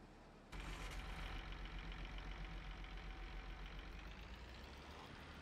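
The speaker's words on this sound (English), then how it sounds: "It's a nice little tractor." A small tractor idles in the farming video game Farming Simulator 22, its engine starting up and then settling into a steady, quiet mid-pitched hum with a faint knocking rhythm.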